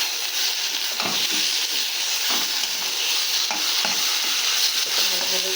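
Food is stirred and fried in a pan, with a steady sizzle under repeated scraping strokes of the spoon against the pan, close and clear with no talking.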